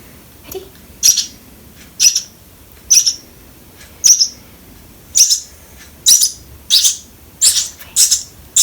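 A rescued sparrow chirps in sharp, high, bright calls, about a dozen of them in a loosely regular series roughly once a second, close and loud against a quiet background.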